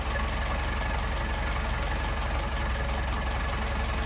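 Mercedes 190SL engine with Solex carburetors idling steadily nearby, a constant dense rumble with a faint rhythmic knock and no break throughout.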